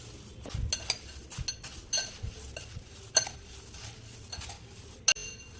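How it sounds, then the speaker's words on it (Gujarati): Puffed rice bhel with salt being mixed in a bowl, giving scattered clinks and scraping taps of a utensil against the bowl in an irregular rhythm, close and fairly quiet. "ત્યારબાદ આપણે આ મિક્સરને સારી રીતે મિક્સ કરી લઈશું"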